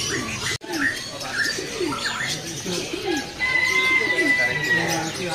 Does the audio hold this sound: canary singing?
yes